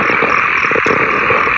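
Frogs croak in rural Laos, a dense, continuous chorus of rhythmic calls filling the night air, loud and close with no voices over it.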